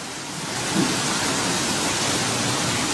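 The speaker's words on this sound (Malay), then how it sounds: "Ini hujan." Steady heavy rain falling, a dense continuous hiss with a low rumble that holds evenly throughout, with no voices.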